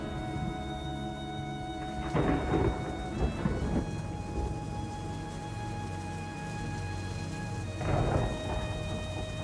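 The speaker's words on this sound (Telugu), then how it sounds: "ఒక్కసారిగా ఉరుములు మెరుపులతో కూడిన వర్షం కురవడం ప్రారంభమవుతుంది" Heavy rain pours steadily while thunder rumbles and cracks several times, distant rolls swelling and fading over the downpour.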